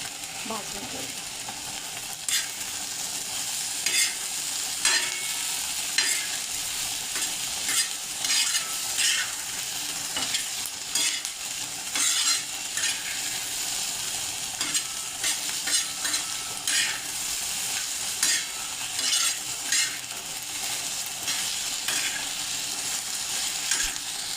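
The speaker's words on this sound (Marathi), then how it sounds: "टोमॅटो घालणार आहे, ते पण व्यवस्थित आपण त्याच्यामध्ये भाजून घेऊ" Tomatoes roasting in a hot pan for a Marathi-style matar paneer gravy, with steady sizzling and repeated scraping, clinking stirs of a spoon against the metal pan throughout, close and alone.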